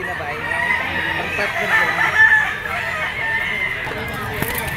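A pumpkin Sota Peacock white-legged gamefowl rooster crows once, loud and close, amid a busy pet market with voices talking around it.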